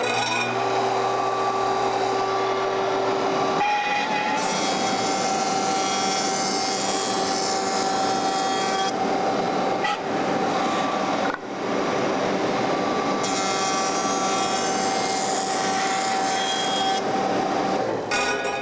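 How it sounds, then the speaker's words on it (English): Jointer planer running while a wood board is fed across the cutterhead: a loud, steady motor whine with a dense, rough cutting roar that swells during passes and eases between them, with no talking. "I'm done with the joiner planer."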